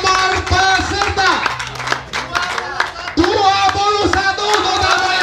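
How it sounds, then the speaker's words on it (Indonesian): At a goat contest for adult male goats, a crowd claps for the first-place winner while people talk loudly and harmonic voices or music ring over the scattered, irregular clapping. "Tepuk tangan untuk juara satu."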